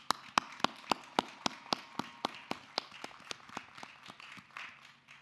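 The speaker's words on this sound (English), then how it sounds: "Please join me in applauding these students for their academic accomplishments." At a commencement ceremony, a single person's hands clap in a steady, evenly spaced rhythm of about twenty sharp claps that fade slightly toward the end, close and otherwise quiet.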